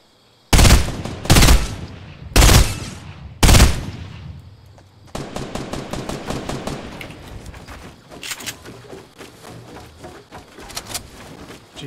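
Gunfire in a video game shootout: four heavy, booming shots spaced about a second apart, then a rapid automatic burst with scattered further shots fading in and out.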